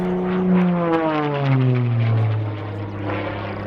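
A powerful American aerobatic airplane flies past with a loud, droning propeller engine, its pitch sliding downward as it passes close by and then fades slightly.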